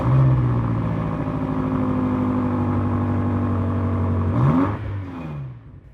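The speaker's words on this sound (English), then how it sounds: "So we'll start the car, we press the button." A 2021 BMW M5 Competition V8 engine starts with a deep, steady hum, then rises briefly in a quick rev before settling and fading to a lower idle.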